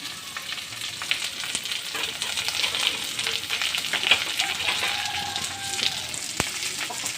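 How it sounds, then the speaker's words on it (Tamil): Onions sautéing in a pan for a dried-fish stir-fry, a steady close sizzle with scattered soft stirring scrapes and small pops throughout, no talking. "வெங்காயம் நல்லா வதங்கிட்டோம்"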